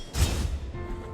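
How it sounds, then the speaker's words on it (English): A small explosion in the video game Blasphemous lands as a short, loud muffled burst with a dull low thump and a quick fade. "I guess that little explosion is the upwards damage"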